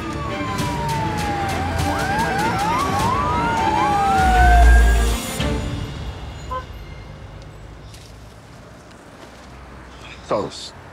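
An ambulance siren wails in rising and falling sweeps, loud and close, with a deep low rumble partway through before fading; background noise and sounds continue after the siren ends.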